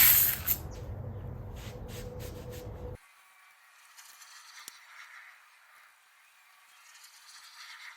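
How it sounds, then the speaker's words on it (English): Degreaser spritzes onto a rag from a spray bottle during a Saab 900 engine rebuild: a loud, close hiss of about three seconds that stops abruptly, followed by faint rubbing and handling noises. "So I'm just going to spray some degreaser on the"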